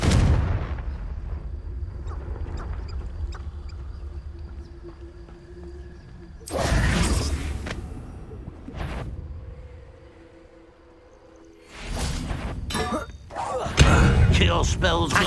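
Confringo fire spell blasts in Hogwarts Legacy combat, sharp booming impacts at intervals, the loudest clustered near the end, with quieter game ambience and thuds between them.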